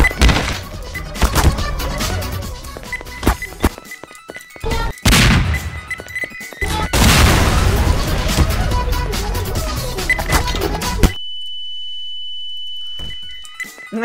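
Garry's Mod deathmatch clatter with thuds and bangs, a pipe bomb blowing up in a loud crashing burst, followed by a steady high electronic beep ringing alone near the end.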